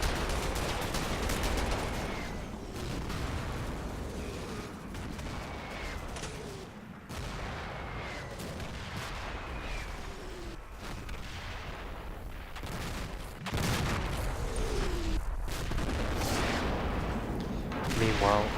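An artillery barrage in the Combat Mission war game rumbles with repeated distant booms and crackling gunfire over a dense battlefield backdrop, explosions swelling and fading in waves.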